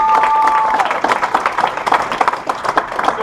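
Applause from a gathered audience for a guest named Mr. Jed at a speaking event, dense clapping sustained throughout with a voice briefly audible near the start.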